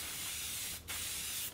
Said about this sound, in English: And I'm just going to put a little bit of spray in here